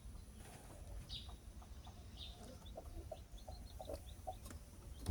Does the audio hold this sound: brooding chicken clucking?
yes